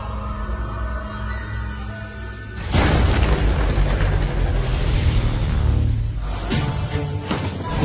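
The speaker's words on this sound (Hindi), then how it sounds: "धमाका।" A loud, deep explosion bursts suddenly and rumbles on for several seconds before fading, with a second, smaller blast following near the end.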